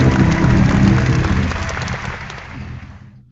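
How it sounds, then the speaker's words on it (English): Broad clapping from an audience, loud at first and gradually thinning out over a few seconds, with a dense crowd rumble underneath. "Thank you for the applause."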